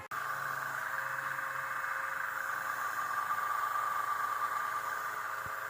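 A small electric motor driven by a VFD-M frequency converter whirs steadily with an even, high-pitched drone and faint vibration, starting abruptly and running on without change.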